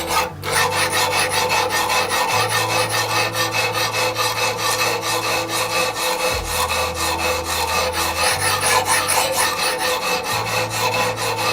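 Steady back-and-forth rasping of a knife blade on 200-grit stones of a Wicked Edge GO sharpener, close and continuous with rhythmic strokes and no talking.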